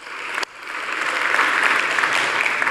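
Audience applause breaks out at a church sermon on family and parenting, rising quickly into steady, dense clapping that fills the room and holds at a loud level throughout.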